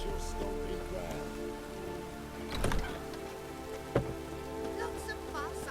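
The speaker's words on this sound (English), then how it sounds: "Lots of fuss over lots of rain." Steady rain patters and hisses across surfaces in The Witcher 3 video game, a constant wet wash with a few faint thuds and tones layered over it.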